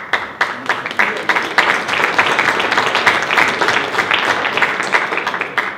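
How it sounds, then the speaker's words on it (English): A round of applause from delegates at a political party conference debate on housing, a sustained dense clapping crowd filling the hall at fairly loud level without a break. "Alden McGuinness led that round of applause"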